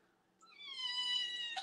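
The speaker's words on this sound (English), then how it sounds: "That's the only time Simon meows" A pet cat gives a single drawn-out, rising meow, close and clear against a quiet room, ending in a brief sharp burst.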